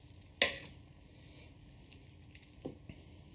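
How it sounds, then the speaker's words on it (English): Grain mash being stirred in a Brewzilla 65L brewing vessel, a faint wet swishing and squelching with one sharp knock against the side near the start and a couple of softer bumps later. "I'm going to give it a stir because that's what I like to do."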